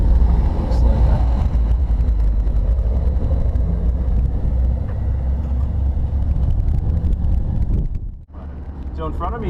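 A 2013 MINI John Cooper Works GP on the move, a steady rumble of engine and road noise with wind buffeting throughout; a brief dip near the end.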